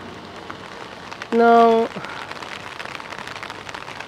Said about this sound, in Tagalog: Umuulan dito sa amin.